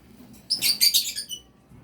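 Young green opaline pet birds give a brief burst of high, bright chirps and tweets, fairly close and moderately loud, rising quickly and trailing off within about a second against a quiet room.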